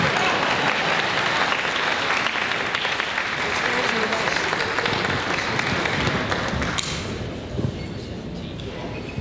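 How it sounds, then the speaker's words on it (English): A celebration-of-life audience claps loudly and continuously, a thick wash of hand claps with occasional sharper slaps, easing off somewhat near the end as the crowd settles. "Keep clapping, they're coming."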